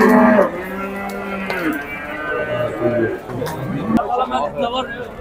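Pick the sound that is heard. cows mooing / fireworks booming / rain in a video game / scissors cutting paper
cows mooing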